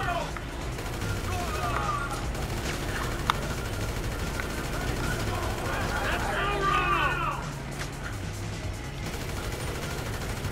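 Gunfire in GTA V, rapid bursts of shots crackling through a steady layer of game noise, with a denser flurry of shots near the middle and talk running underneath.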